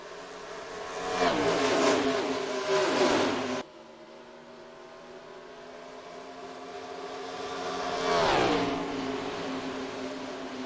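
Race cars accelerating on an oval in the NR2003 Disney Cars racing game, engines swelling loudly past, fading to a distant hum, then another roaring pass with rising pitch.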